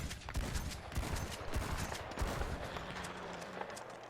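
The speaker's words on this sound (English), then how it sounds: "So now let's shoot a shotgun real quick" Shotgun blasts in the video game Red Dead Redemption 2 (The Naturalist DLC), several sharp reports in fairly quick succession, each with a short booming tail, loud and clear with no talk over them.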